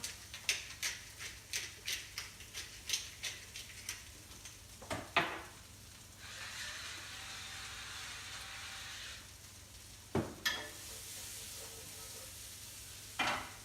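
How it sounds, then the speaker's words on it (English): Vegetables sauté in a hot pan for a quinoa dish, seasoned with salt and pepper: a steady sizzling hiss swells and fades, with quick utensil ticks and scraping taps as the pan is stirred and tossed. "we're just going to let that saute away for about 5 or 6 minutes"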